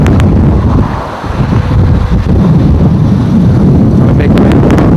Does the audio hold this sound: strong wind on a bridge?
yes